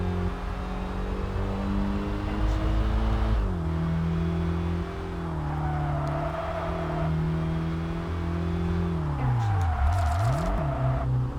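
Continuous car engine in the Kaido Racer 2 racing game, droning steadily then dipping and rising in pitch as it shifts and revs, loud and close with no talking.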